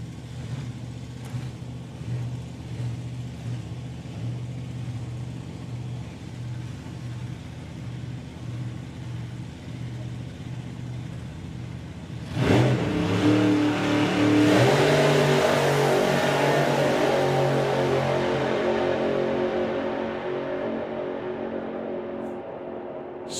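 Drag race car at a sportsman nationals meet, an engine droning steadily before a sudden loud burst as it launches and accelerates flat out, the roar sustained for several seconds and then gradually fading into the distance.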